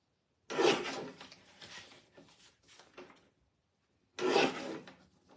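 A paper stencil is trimmed with two close bursts of scraping, rasping cuts, the first running about two seconds before fading into lighter rustles and the second starting sharply after a pause.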